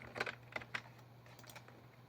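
A computer keyboard typed on in a quiet room, a few faint quick key clicks followed by a single press of the enter key, over a low electrical hum.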